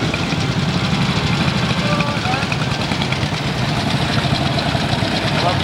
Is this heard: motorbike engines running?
yes